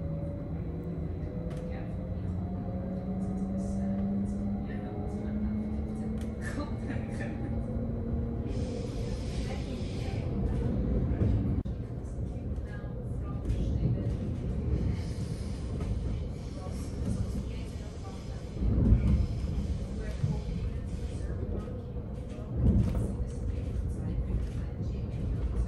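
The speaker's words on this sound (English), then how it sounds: "So here we are departure from a Bern train station" A Swiss passenger train pulls out of Bern station toward Bulle, with a low rolling rumble heard from inside, rising whine and occasional clunks and jolts as it gathers pace.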